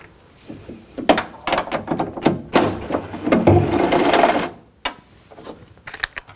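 Socket wrench ratcheting in quick bursts as a 10mm socket backs out the window regulator nuts inside the door of a 2000-2006 BMW X5, a close mechanical clicking with brief pauses between runs.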